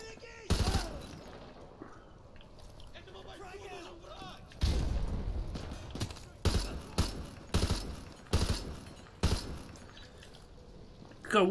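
Gunfire in Call of Duty: Modern Warfare 2 Remastered: a burst near the start, then a run of loud, sharp shots spaced about a second apart over a steady battle backdrop.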